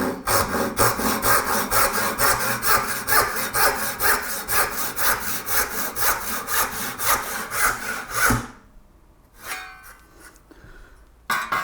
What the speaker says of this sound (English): so here's the tenon saw